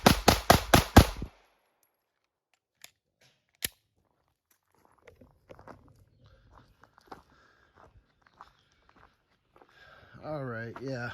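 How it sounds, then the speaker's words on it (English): Ruger PC Charger pistol fires a rapid string of five close, loud shots at the start, followed by a couple of isolated sharp cracks, then quiet handling noises and a voice talking at the end. "And I just shot 5 more than I should have."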